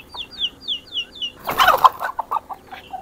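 A sick rooster being held for a veterinary check gives a run of short, rhythmic clucks up close, then a louder burst of squawking and flapping as it struggles, followed by scattered clucks.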